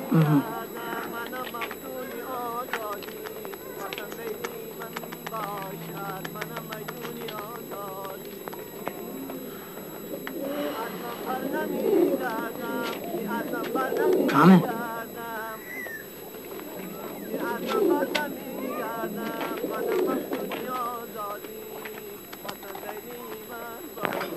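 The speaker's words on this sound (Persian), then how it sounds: "اینا چیه؟ کبوتر فروشیه؟" Pigeons coo at a pigeon seller's shop in a street scene, with soft, repeated low calls running faintly beneath nearly constant conversation and a sharp knock partway through.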